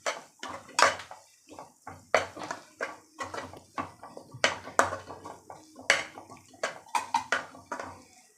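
Mushroom biryani masala is worked around a pan at close range, with a rhythmic series of sharp metallic spatula clanks and scrapes and little audible sizzle.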